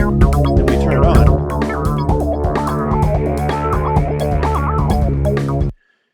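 Loud music with drums and a full, rounded low end, warmed by tape-style processing, plays for several seconds and then cuts off abruptly.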